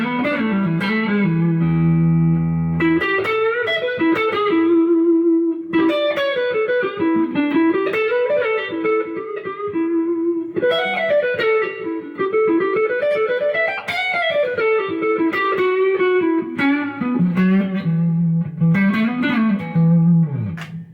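A clean electric guitar, a Stratocaster on its neck pickup, plays a melodic line with sustained single notes and some chords, bright and warm, with light effects and no voices.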